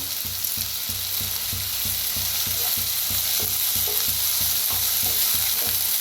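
Tomato, onion and spring onion fry with curry leaves in a pan, a loud continuous sizzle with a steady, rhythmic stirring pulse underneath, close up and with no voices.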